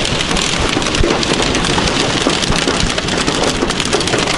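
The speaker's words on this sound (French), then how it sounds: "C'est une tempête, hein." Heavy rainstorm on a journey through Namibia and Botswana: a loud, dense, unbroken downpour hissing and drumming steadily throughout, with no voices.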